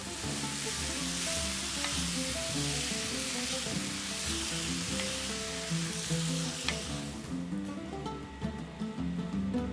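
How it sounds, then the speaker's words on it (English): Diced roasted tomatoes added to a sizzling pan for Greek baked giant beans, a loud bright hiss of frying that eases off near the end, with light stirring and a musical backing underneath. "I'm adding 2 cups of our diced roasted tomatoes."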